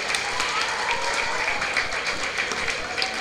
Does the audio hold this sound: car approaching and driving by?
no